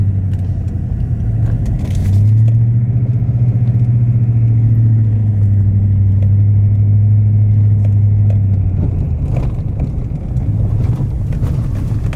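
A car rolling along a smooth gravel road on a forest trail, its steady low rumble and road noise constant throughout, with some wind buffeting the microphone and a few brief clicks.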